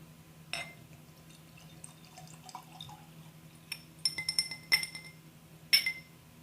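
Glengoyne 12-year-old Scotch whisky trickles and splashes into a glass, with scattered clinks of glass in a quiet room, ending in a few brighter chimes.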